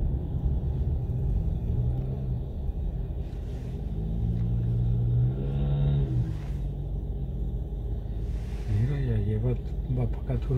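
Vehicles accelerating in city traffic, a low rumbling engine drone with rising revs, heard beneath people talking in Spanish.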